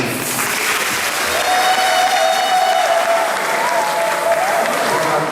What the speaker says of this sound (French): Sentez-vous chez vous ici et nous accueillons avec joie par nos acclamations.